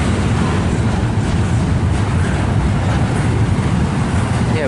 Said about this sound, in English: we got a CPKC westbound train passing us right now